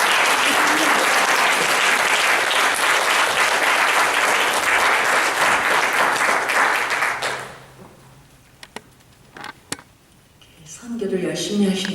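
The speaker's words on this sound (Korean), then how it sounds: "우리 교수님 모실 때 큰 박수로 한번 환영했으면 좋겠습니다" A church audience at a Mother's Day service applauds loudly and steadily to welcome a professor, a dense close wash of clapping that fades out after about seven seconds, followed by a few scattered taps and then a voice speaking.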